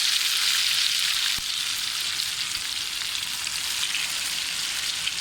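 Chicken tikka pieces fry in a pan of hot oil, giving a steady, close hiss and crackle with small pops throughout and no talking.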